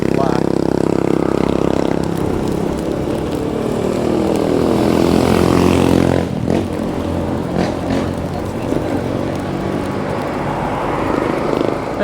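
A propeller aircraft passes overhead in Angeles City, its broad engine drone loud at first and then fading under street traffic noise and passing vehicles.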